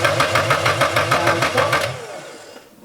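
Nissan Silvia S14 engine cranking over on the starter with no oil feed or return lines fitted, a loud steady pulsing rhythm for about two seconds before it winds down and stops.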